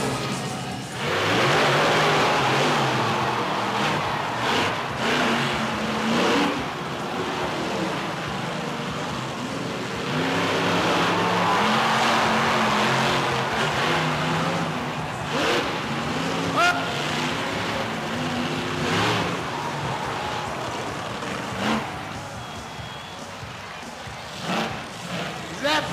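Blue Max monster truck with a 1,500-horsepower engine revving loudly at a Hawaiian Monster Smash show, a sustained roar with repeated swells over crowd noise, while people talk nearby.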